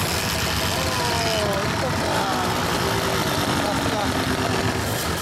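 A 1983 Honda MVX250F (MC09) two-stroke three-cylinder motorcycle engine runs at a steady idle, a dense continuous buzzing drone close by with no breaks.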